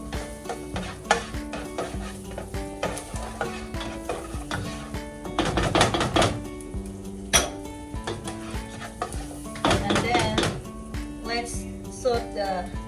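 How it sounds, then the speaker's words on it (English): Garlic sautes in a pan for collard greens with potatoes, a steady sizzle under repeated scraping stirs and clinks of a utensil against the pan, louder bursts of stirring coming and going. "saute the garlic."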